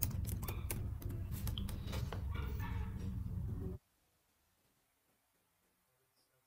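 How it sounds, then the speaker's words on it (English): Rapid keystrokes on a computer keyboard as a password is entered, a dense close-up clatter of clicks for several seconds that stops abruptly, leaving near silence. "Just type your password."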